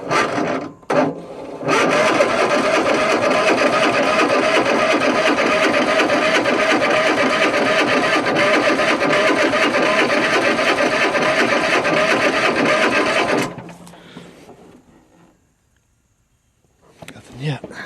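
An abandoned Bad Boy zero-turn mower's engine is cranked with the choke on, making a loud, continuous rattling mechanical drone that lasts about twelve seconds, then cuts off abruptly into near silence.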